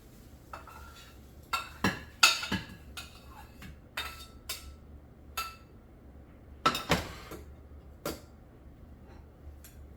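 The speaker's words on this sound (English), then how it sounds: "And then I will put the eggs onto the plate." Light clinks and taps of utensils against a plate as freshly cooked scrambled eggs are scooped onto it in a home kitchen, several sharp close clicks spaced irregularly over quiet background.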